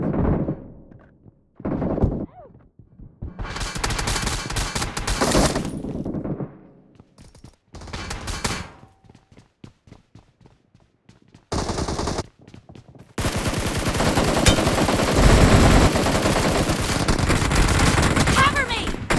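Rapid video game gunfire in bursts of automatic fire and single shots, loud and close, broken by short gaps. A long sustained barrage of shooting fills the final stretch, with game voice callouts mixed in.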